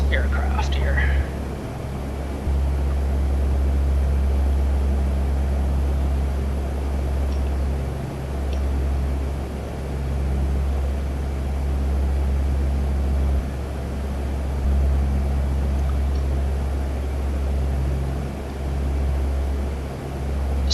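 A Hercules C-130 in flight in Digital Combat Simulator over Guam gives a steady, loud low engine drone that holds throughout, with quiet murmured talk over it.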